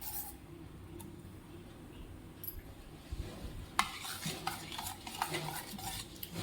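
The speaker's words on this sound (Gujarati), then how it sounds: "પછી તેને ચમચીની મદદથી હલાવી લઈએ" A spoon stirs lemon mint sherbet, starting quiet and then clinking and swirling more busily against the vessel in a loose, uneven rhythm, close and fairly soft.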